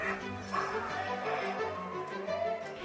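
Mudhol Hound dogs yip and bark repeatedly in an open ground, fairly quiet and slightly distant, with whimpering yelps mixed into a steady background.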